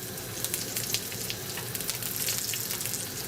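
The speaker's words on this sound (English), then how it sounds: "I'm gonna infuse this oil with these slices of ginger." Slices of ginger and fresh garlic sizzle in hot oil, a dense, steady crackle and hiss filling the whole stretch up close, with no talking.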